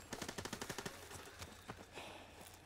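Automatic weapon fire in the World War II shooter Call of Duty WWII, with a rapid burst of close, sharp shots at the start followed by scattered single reports and more distant gunfire in a busy battlefield mix.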